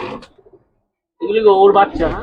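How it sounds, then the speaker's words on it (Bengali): Falcon breed pigeons coo in a loft, a rounded throaty call rising up close after a brief pause, with a voice heard briefly around it. "এই ফ্যালকনেরই আরো কিছু কবুতর আপনাকে দেখাচ্ছি আমি"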